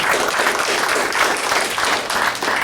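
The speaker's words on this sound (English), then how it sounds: "Thank you for that little sympathy applause" A comedy show audience gives a short burst of light, scattered sympathy applause, steady and close for a few seconds with no talking over it.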